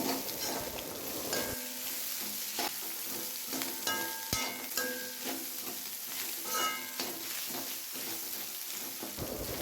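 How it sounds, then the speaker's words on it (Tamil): Chopped cabbage sautés in a pan as chicken fried rice is being cooked, giving a steady close sizzle with scattered clatter from stirring and no talking. "இது 2 to 3 மினிட்ஸ் அளவுக்கு நல்லா வணக்கிக்கோங்க."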